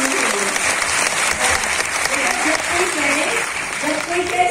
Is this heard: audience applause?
yes